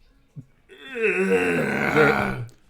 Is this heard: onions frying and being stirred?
no